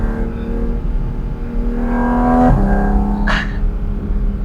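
A Porsche Cayman GT4 RS on a Swiss Alpine pass revs its engine, a loud, rising drone that climbs in pitch, drops abruptly, then surges into a brief sharp high rev before settling back.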